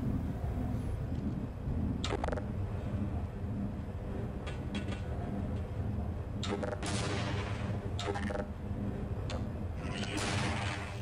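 Grenade blast and gunfire in the Half-Life video game, a steady wash of combat noise with several sharp bursts standing out, loud and continuous throughout.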